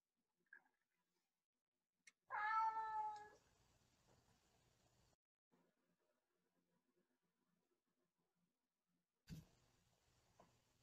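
A cat gives one clear, fairly close meow, with a few faint ticks and small household noises in an otherwise quiet room.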